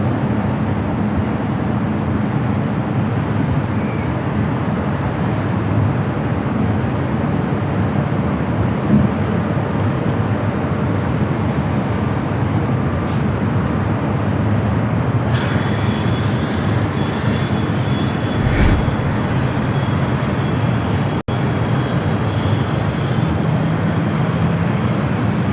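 A Singapore Airlines airliner takes off at LAX, a steady broad jet engine roar heard from a distance that holds for a long stretch alongside faint airport background sounds.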